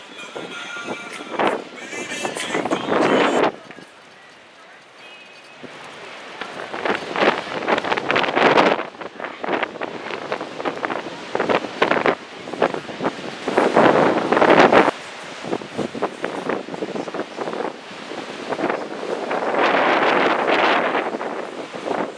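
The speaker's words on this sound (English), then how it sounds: "Cold and windy, you're not gonna be able to hear me anyway." Strong, cold wind during a storm at the Seaside Heights shore buffets a microphone in heavy, gusting roars, with a broad surf-like rush between gusts; no clear voices stand out.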